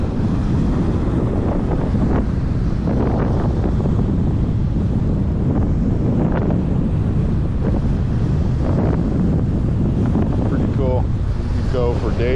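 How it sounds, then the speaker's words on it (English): Strong wind on a beach buffets the microphone with a steady, loud roar that masks the surf for the whole stretch. "The wind's really kicked up over here"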